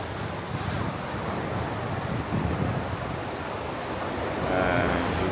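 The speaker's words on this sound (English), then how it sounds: "Nice, chill ocean, even though it's kind of loud right now." Ocean waves breaking on a beach on a Saturday morning, a steady loud roar of surf with wind buffeting the microphone, swelling louder toward the end, no voices.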